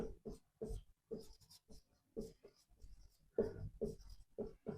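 Marker or chalk writing on a board makes a series of short, rhythmic scratching strokes at close range. A teacher speaks briefly between the strokes.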